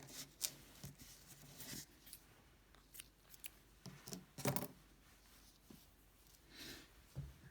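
Scissors snipping nylon sewing thread for faux fur pom poms, several quiet close cuts mixed with soft rustling and handling, no voices.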